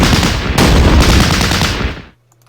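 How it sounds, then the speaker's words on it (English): Suppressive gunfire in the strategy game Battle Academy: a loud, dense fusillade of overlapping shots with two sharp bursts, lasting about two seconds before cutting off to near silence. "We do some more suppressive fire because usually these fortifications are always units."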